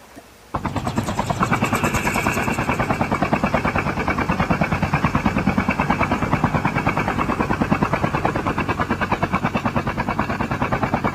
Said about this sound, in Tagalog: Nasaan yung helicopter?